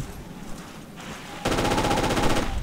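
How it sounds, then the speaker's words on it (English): In Forgotten Hope 2 battlefield gameplay, a machine gun opens up in a fast, steady rattling burst that runs loud and close for over a second after a quieter stretch. "Oh, machine gun ourselves."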